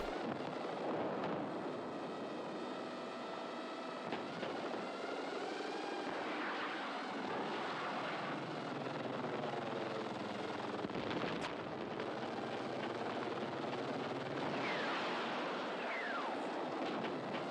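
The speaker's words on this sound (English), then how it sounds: "Okay, at least we got a helicopter." A helicopter in the video game Battlefield 6 drones and roars steadily throughout, loud and continuous under dense in-game battle noise with scattered impacts and engine rumble.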